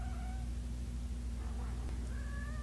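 A condo cat gives a couple of faint meows over a steady low hum, with quiet background sounds between the calls.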